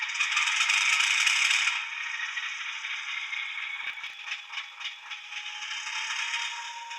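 A Hornby R2901XS Class 50 'Illustrious' model locomotive, DCC fitted but run on DC power, gives off a steady, faint metallic rattle and scraping whir, louder at first and then settling into a lighter clatter.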